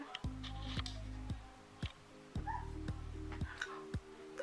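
A dog barks and yips indoors in a series of short, fairly faint barks with whimpering between them, spaced irregularly.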